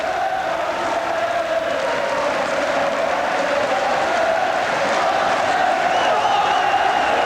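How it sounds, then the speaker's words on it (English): Football fans in a stadium crowd at Wembley, during the 1987 FA Vase final, applaud their team in a steady, sustained wash of clapping and crowd noise with faint cheering. "Getting a tremendous round of applause from their own fans"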